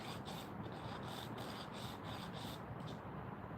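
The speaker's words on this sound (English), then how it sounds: "I'm gonna do just a quick file" A hand file sharpens a saw chain with steady, rhythmic rasping strokes, close but fairly quiet, repeating over a few seconds with no talk.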